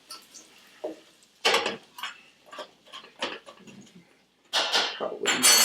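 Butter and brown sugar cooking in a hot pan for a bananas foster sauce. A metal utensil clinks and scrapes against the pan in a few scattered bursts, with soft sizzling faint in between.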